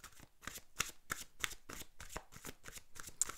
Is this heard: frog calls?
no